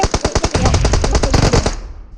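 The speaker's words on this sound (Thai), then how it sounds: "เขายิงไม่โดนแค่นั้นเนี่ย" Rapid automatic gunfire from the mobile shooter PUBG Mobile, a loud continuous burst of closely spaced shots lasting about two seconds before cutting off.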